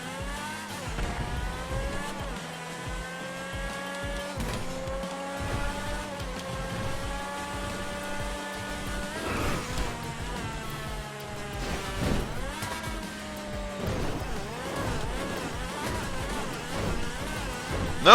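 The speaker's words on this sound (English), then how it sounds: "This car seems like it's having a lot of trouble up here." A stunt car in a driving video game revs and strains as it struggles up a slope, its engine pitch rising and falling in repeated surges, loud and close with no talk over it.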